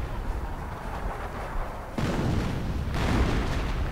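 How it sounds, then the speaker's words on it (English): Artillery fire in a battlefield video game comes as a dense, continuous roar of blasts, with the barrage swelling sharply twice as heavier salvos land nearby, loud and unbroken with no voices. "Lots of artillery saturating this area"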